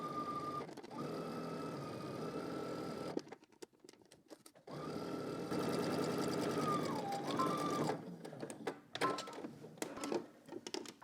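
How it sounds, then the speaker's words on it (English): A sewing machine whirs in fast, sustained bursts while stitching a sleeve in place, pausing briefly in between, then several short stop-start runs near the end. "now we're going to head to the sewing machine and we're going to stitch our sleeve in place"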